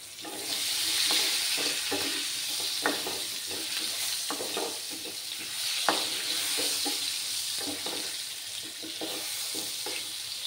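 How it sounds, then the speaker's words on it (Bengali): Potatoes with turmeric and salt fry in a pan for a Bengali mutton masala, giving a steady close sizzle with frequent stirring clicks and scrapes, and no voices. "আলুগুলোকে আমি ভালো করে ফ্রাই করে নেব।"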